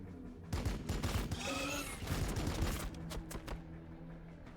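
Gunfire aimed at Termagants in Warhammer 40k: Battlesector comes as a faint, dense rattle of shots and small impacts, overlapping in a steady stream across a few seconds.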